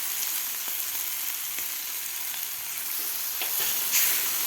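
Tomato puree with salt sautéing on medium heat for tomato chutney, a steady close hiss of frying that runs unbroken throughout, with faint stirring scrapes.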